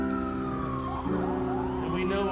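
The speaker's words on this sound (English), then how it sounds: "Lord, we've been hearing the sirens all morning long." Wailing emergency sirens sounding continuously, loud and layered, with pitches sweeping up and down against a steady low rumble.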